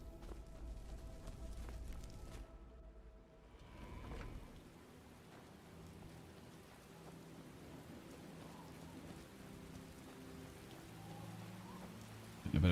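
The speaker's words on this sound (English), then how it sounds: "A bit of a sun shower." A rain shower in the video game Skyblivion, a soft steady hiss of falling rain with a low rumble at first, faint and continuous throughout with a brief thump at the end.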